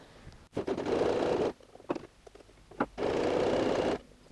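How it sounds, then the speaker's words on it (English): A sewing machine zigzag-stitching a T-shirt seam in stretch fabric, two steady whirring runs about a second long each, separated by clicks and handling noises, close and fairly loud. "I'm just going to place my seam there, 1/2 inch from the edge, and back to zigzag stitch"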